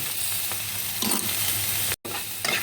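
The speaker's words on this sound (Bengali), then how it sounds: "নুনটা নেড়ে নেবো।" Salt is stirred into paneer chilli frying in a pan. Close scraping strokes ride over a steady sizzle, with a brief break near the end.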